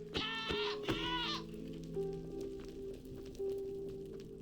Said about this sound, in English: I thought the goat is going to kill me if it sees me.